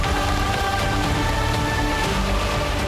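Heavy monsoon rain pours during flooding in Valsad, Gujarat: a dense, constant loud hiss of water pattering on surfaces, unbroken throughout with no voices.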